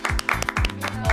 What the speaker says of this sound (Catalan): donem la benvinguda a Maria Hein, un fort aplaudiment